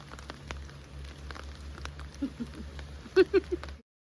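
Steady rain patters on a surface with scattered drops, with a few louder knocks near the end before it cuts off.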